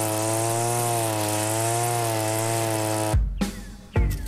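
Huter GGT-1000T petrol string trimmer mowing tall, thick grass: a loud, steady engine drone held for about three seconds, then rougher thrashing bursts as the line strikes dense growth, close by.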